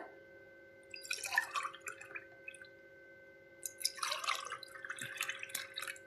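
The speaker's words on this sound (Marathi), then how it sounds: "आता ही लस्सी आपण ग्लासात ओतून घेऊयात।" Homemade lassi made from churned yogurt is poured into a glass, giving two bursts of soft liquid splashing and trickling with a quiet pause between, close and gentle.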